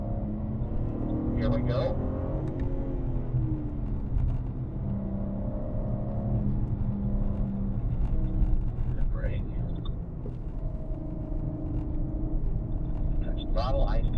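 A BMW M car on a race track, the engine droning and rising steadily in pitch as it accelerates, with someone talking over the continuous interior rumble.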